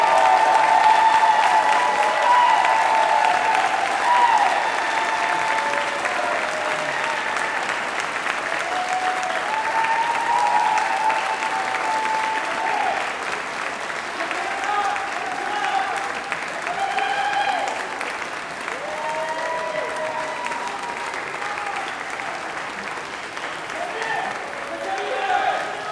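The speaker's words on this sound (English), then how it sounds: "applause" Graduates at a University of Manchester graduation ceremony applaud their friends and family in a large hall, a loud, sustained round of clapping that carries on steadily for the whole stretch with faint murmurs underneath.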